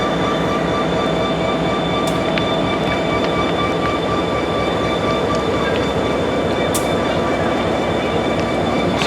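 A B&O GP30 diesel locomotive idles with a steady low rumble and droning hum, loud and continuous, with faint scattered clicks and metallic ticks over it and no talk.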